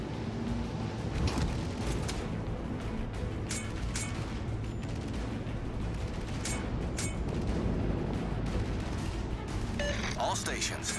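Warship guns firing in World of Warships: Legends, repeated heavy booming shots with mechanical clatter over a dense rumbling battle bed, loud and continuous.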